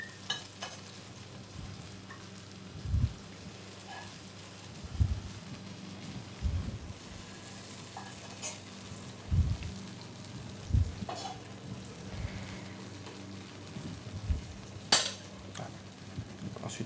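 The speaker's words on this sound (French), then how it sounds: "Tout simplement grillé, rôti à la poêle." Figs sizzle as they roast in a frying pan, a soft continuous crackle broken by scattered low knocks and stirring bumps from the pan. No one talks.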